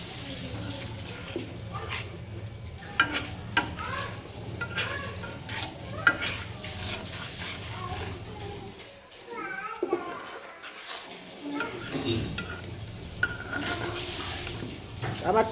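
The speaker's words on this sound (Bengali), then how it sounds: "এখন মশলাটা কষানো হয়ে যেতেছে" Spice paste sautéing in oil in a pan, likely alongside onion and dried fish, with a low sizzle under repeated scraping stirs and light clinks of utensil on metal; faint voices murmur in the background, and the sound briefly drops near the middle.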